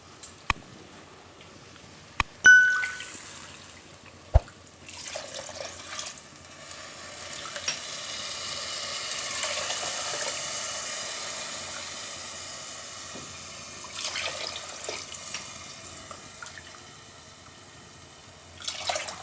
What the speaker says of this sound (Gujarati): ત્યારે આપણે 4 કપ પાણી નાખ્યું છે